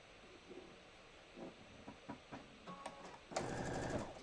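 A sewing machine stitching quilt fabric: faint scattered ticks and clicks in a quiet room lead to a short, louder burst of mechanical whirring near the end.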